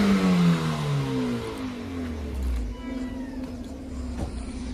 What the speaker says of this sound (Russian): Сейчас прогазуем